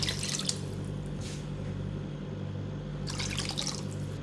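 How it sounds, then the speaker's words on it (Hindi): Water is poured into beef korma simmering in a pot, producing faint splashing and trickling that comes in two short bursts against quiet kitchen background. "2 कप मैं इसमें पानी शामिल करूँगी गोश्त गलाने के लिए।"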